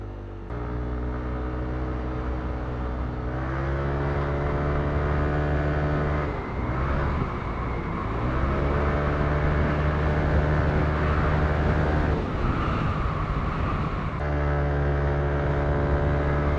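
A Yamaha Aerox 155 scooter engine on a test ride along inner roads, humming steadily and close with rising and falling revs, briefly dipping and picking up again, with no talk.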